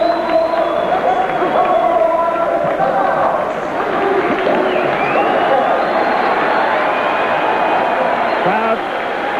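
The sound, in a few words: boxing crowd cheering a fighter's introduction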